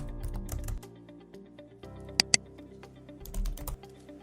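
Computer keyboard typing of a sender domain into a web portal form, a few soft, close keystrokes with a couple of sharper clicks midway, quiet and without speech.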